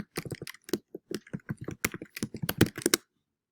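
Someone types an email address on a computer keyboard, a close, quick run of sharp key clicks in uneven bursts with short pauses, alone and without talking, then stopping abruptly.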